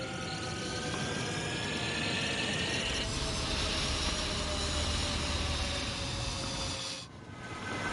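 Incoming bombers in Ace Combat 7 produce a steady, dense mechanical engine drone with a whining tone, loud and continuous before a brief dip near the end.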